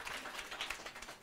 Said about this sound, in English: And a round of applause for Internetstiftelsen.